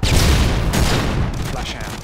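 A frag grenade blast in Call of Duty: Modern Warfare 2 on the Salvage map during team deathmatch, a loud close boom followed by a rumbling decay lasting about two seconds.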